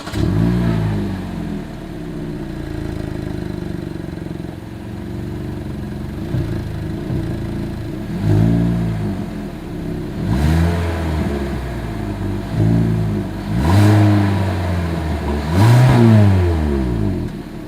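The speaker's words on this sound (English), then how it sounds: "Here is that exhaust clip." A 2023 Hyundai Elantra's exhaust revs repeatedly from idle, with several sharp throttle blips that rise and fall back, the last ones louder and quicker, close to the microphone with no talking.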